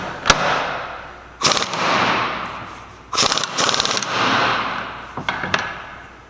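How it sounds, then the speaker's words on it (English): An impact wrench hammers in several loud, close rattling bursts while tightening the pinion nut on a Salisbury differential being rebuilt with a Dana 44 carrier, each burst followed by a whirring spin-down in a workshop. "Here's a good time to turn your impact down a click or two."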